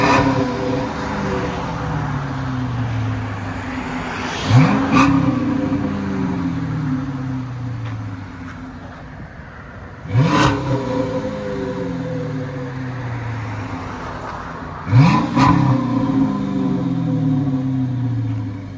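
A Chrysler 300C with a 5.7L HEMI V8 and Flowmaster Super 10 exhaust revs three times, each a sharp rising blip that falls back to a deep, rumbling idle, loud and close with no talk.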